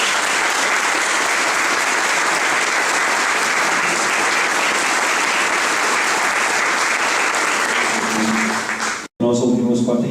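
An audience at a faith and politics event during the 2014 elections applauds warmly, a dense, steady wash of clapping that fills the space and carries on for several seconds before cutting off abruptly, with brief talk after the break.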